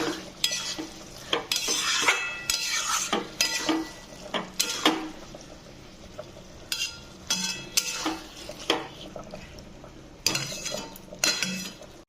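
Broken fish heads get stirred into boiled potato and pumpkin in a pan, with irregular scrapes and clinks of the utensil against the metal over a low sizzle, loud at times and quieter in between.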